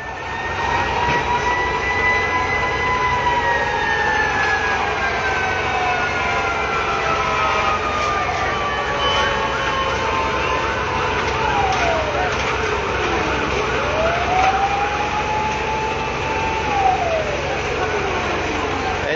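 Several fire truck sirens wail and sweep up and down, overlapping as engines arrive at a building fire in Quezon City, loud and persistent over a constant roar of engines and crowd noise.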